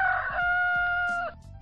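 A rooster kept at an apartment building crows loudly in one long sustained call, with chickens clucking faintly around it.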